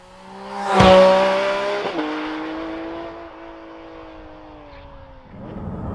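A Porsche Cayman GT4 RS with a 4-liter naturally aspirated six-cylinder engine revs sharply, then its tone drops and holds as it drives on, a loud harmonic engine note with no talk, fading and picking up again at the end.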